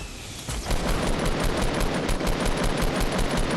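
A Fortnite assault rifle fires in rapid sustained bursts, a dense automatic stream of loud close shots that runs steadily once it begins, with no talking.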